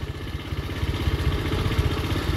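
A motorcycle engine runs steadily on a road, a close, loud low rumble with a rapid pulsing throb and some clatter, without pauses.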